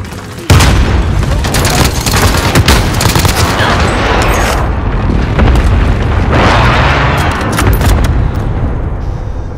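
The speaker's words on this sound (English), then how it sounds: "Throwing frag." A frag grenade going off in Call of Duty Warzone: a loud booming blast amid continuous heavy gunfire and explosive rumble, close and dense throughout, with game voices partly buried under it.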